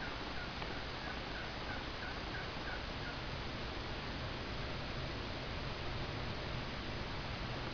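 Wild turkeys perched in trees at dawn give a short series of faint, distant gobbles early on, nearly buried under a loud, constant hiss of wind or noise.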